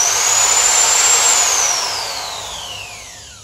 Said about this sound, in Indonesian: Yang pertama adalah pengeboran biasa